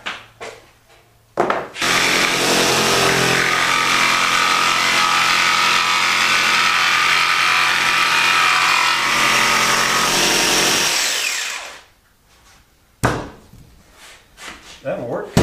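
A power tool rounds off the edge of a wooden rustic bathroom mirror frame, grinding steadily and loudly for about ten seconds, then stopping, with brief handling noises before and after.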